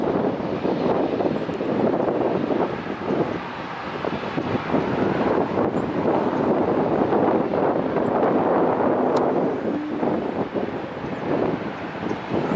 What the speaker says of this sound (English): out over the ocean coming in, we have a JetBlue Flight 223 A321-200 coming in from JFK.